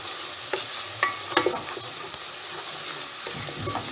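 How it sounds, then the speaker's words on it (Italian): Soffritto sizzles steadily in a pan as a utensil stirs it, with a few sharp scrapes and clicks standing out above the continuous frying hiss. "Questo è il soffritto"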